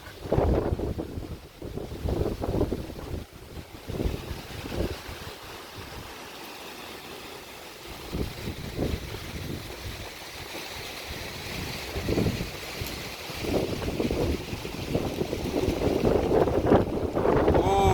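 Strong gusting wind at a beach buffets the microphone in heavy rumbling bursts, with surf and open-air noise behind; a voice speaks faintly at times.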